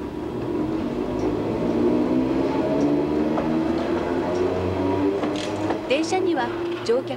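An Enoden electric train runs along the line with a continuous low rumble and hum, steady and close. Faint clicks and rattles come near the end, and a voice talks over it.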